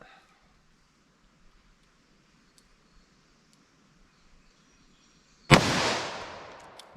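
.327 Federal Magnum revolver fired into medium density fiberboard: after near-silence with faint clicks, a single loud, sharp outdoor shot rings out and trails off in a long decaying echo.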